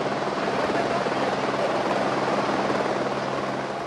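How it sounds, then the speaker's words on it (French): A helicopter lifting off from a field during a cannabis drop operation: a loud, continuous rotor thrum and turbine whine, close by and steady throughout. "À 17h01, l'hélicoptère redécolle."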